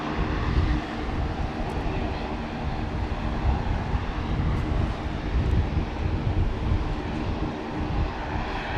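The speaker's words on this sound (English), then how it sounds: "there's extreme gusts of wind over here" A continuous, heavy roar of strong wind gusts pounding the microphone at Brisbane Airport, constant and loud from start to finish.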